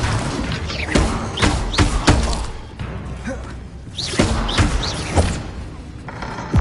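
Bombarda blasting spell impacts in Hogwarts Legacy, a string of sharp thuds and shattering crashes at an uneven rhythm, loud and close, mixed with whooshing spell sounds.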